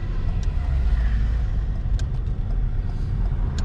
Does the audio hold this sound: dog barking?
no